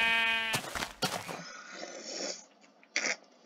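A sheep in the game Paper Minecraft gives a harmonic bleat near the start, then a few short clicks and game noises follow over a low steady hum.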